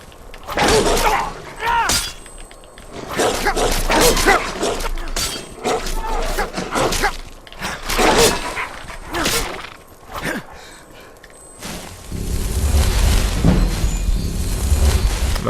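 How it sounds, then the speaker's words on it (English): Wolves attacking in the video game Skyrim Special Edition: loud combat with thuds, sharp impacts and snarling-type bursts in rapid irregular succession, a speaking voice throughout, then a denser roaring wash near the end. "We have wolves."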